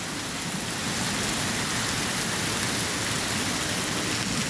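Heavy October rain pours down in Guajará-Mirim, Rondônia, a loud, dense and unbroken roar of drops hitting surfaces with no voices.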